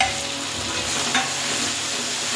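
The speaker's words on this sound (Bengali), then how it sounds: "মশলাগুলো ভালো করে একটু নেড়ে নিতে হবে।" Ground spices stirred and frying in oil in a pan for doi katla fish curry, giving a steady close sizzle with a soft scrape of stirring partway through.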